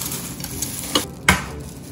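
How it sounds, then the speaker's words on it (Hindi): Raw kebab mince with coriander, green chillies and two eggs being worked together in a bowl, soft wet squelching and stirring with a couple of sharper scrapes, close up with no talk. "अच्छी तरह इसको मिक्स करें पूरा"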